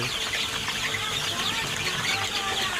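Chickens cluck amid steady, dense farm noise at a poultry seller, a constant wash of overlapping calls with no clear pauses.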